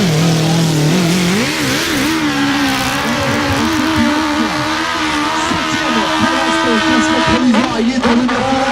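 A motocross motorcycle engine revs hard on a steep, badly rutted uphill climb, with loud wavering pitch sweeps as the throttle rises and falls, close and continuous, and a commentator's voice faintly mixed in.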